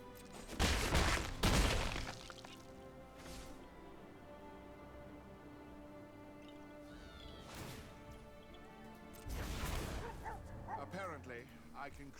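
Dog barking effect in the Magic: The Gathering Arena card game, two sharp close barks at the start followed by quieter game sounds, a brief yelp mid-clip and another burst of barking near the end, with a voice talking over it.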